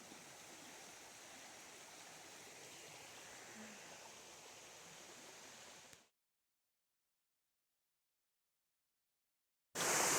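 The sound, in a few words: flowing creek water near campsite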